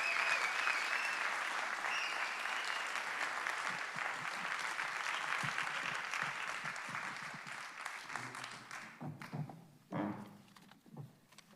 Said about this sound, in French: S'il vous plaît, des applaudissements pour Véronique Marie, Emmanuel Audard